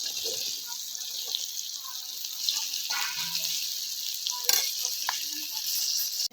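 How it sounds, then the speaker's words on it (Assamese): A spice mixture for amla pickle stirred in a pan, giving a continuous soft sizzle and hiss with occasional scrapes and one sharper knock near the end, close by and even in level. "ধুনীয়াকৈ মছলাখিনি সংমিশ্ৰণ হ'বলৈ লৰাই দিয়া হৈছে।"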